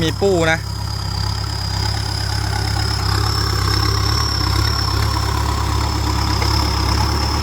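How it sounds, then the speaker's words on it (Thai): A Kubota 5018 tractor's turbo diesel engine idles steadily with a high, thin turbo whistle running above it, close and loud, after a brief rising rev at the start. "คันนี้มีเทอร์โบนะครับ เทอร์โบนี่เสียงวีดอย่างเดียวครับ"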